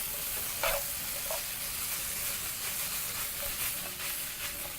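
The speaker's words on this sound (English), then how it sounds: "Proceed to toss everything together." Sliced white onion and beef tossed together in a hot frying pan for chapati roll filling, giving a steady, even sizzle with a few soft scraping and stirring clinks over it.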